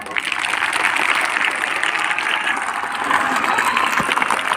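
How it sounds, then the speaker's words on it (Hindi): Sustained applause from a school audience at a Christmas day celebration, dense loud clapping of many hands rolling steadily throughout, close and without speech over it. "जोर से बजाइए ताली."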